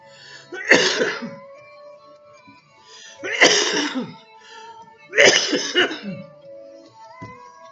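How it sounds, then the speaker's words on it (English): Three separate bouts of harsh, chesty coughing, spaced a couple of seconds apart, close and fairly loud against a quiet background. "Please, help me stop coughing"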